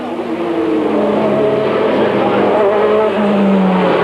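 Formula 3000 race cars at Le Mans in 1989, a loud, continuous high-revving engine whine with rising and falling pitch as the cars race past, no pauses.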